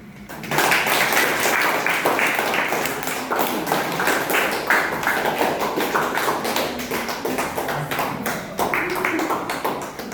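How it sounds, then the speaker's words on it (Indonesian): A classroom group claps after finishing a group presentation, a dense, even patter of many hands that starts abruptly and runs steadily for nearly ten seconds, fairly close and without pause. "Kita beri aplaus dulu."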